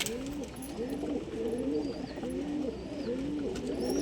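Pigeons in a home loft coo continuously in overlapping, rolling calls close by, with several birds layered together and occasional faint higher chirps in the background.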